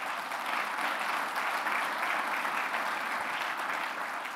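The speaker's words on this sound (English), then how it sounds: "Please, a round of applause for all of our sponsors." Audience at a business awards event gives a sustained round of applause for the sponsors, a dense, even wash of clapping that holds steady from start to finish.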